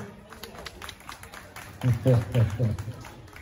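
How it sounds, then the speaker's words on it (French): Applause at an excellence day awards ceremony breaks out as a short burst of hand clapping in the second half, rising over a background of voices and crowd murmur. "Applaudissez."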